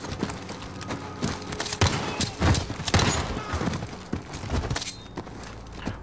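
Unsilenced gunfire in the Call of Duty Modern Warfare campaign, a few loud sharp shots and bursts standing out over a dense, busy game soundscape with thumps and movement.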